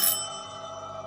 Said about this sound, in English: And every bell in the house began to ring.